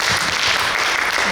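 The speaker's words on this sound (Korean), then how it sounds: "또 이렇게 사랑 고백을 해주시는 또 용기 있는 분께 또 박수 한번." A brief, loud swell of audience applause at a book concert and author talk for a bestselling essayist, a dense and even wash of clapping.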